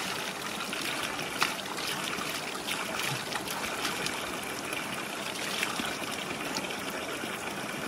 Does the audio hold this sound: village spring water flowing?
yes